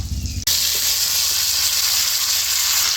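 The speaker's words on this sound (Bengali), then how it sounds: "এইবারে দিয়ে দেবো ভেজে রাখা মাংসগুলো" Pre-fried chicken pieces drop into hot masala with lemon juice for an orange chicken curry, setting off a sudden loud, steady sizzle that fills the pan after a brief quieter start, with no talking.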